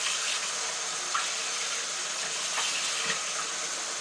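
Water runs steadily into a sink while lettuce is washed before going into a salad spinner, a continuous even hiss with a few faint splashes and clinks.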